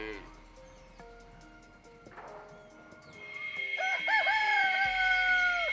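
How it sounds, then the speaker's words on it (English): Several roosters crow in long, rising calls, loud and close, with overlapping crows building toward the end amid background farmyard noise. "My least favorite part has been the roosters."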